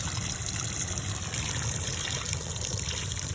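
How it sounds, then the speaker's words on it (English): Water from a garden hose under pressure splashes steadily while digging a crawl space French drain, a continuous close hiss and trickle with no talk. "Now it's kind of splashing off there a little bit just because, oh, I'm sorry, just because of the pressure from the hose."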